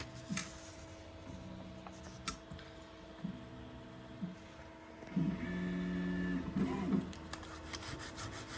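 A 3D printer auto-levels its bed at the corners, its stepper motors humming and whining in short tonal runs with soft mechanical ticks between moves, strongest in a sustained whir toward the end.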